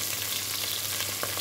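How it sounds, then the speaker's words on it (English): Onion frying in a very hot pot, cooked until deep brown: a steady, dense sizzle and crackle fills the whole moment at close range, with a few sharper pops near the end. "they fry the onion until it's really brown"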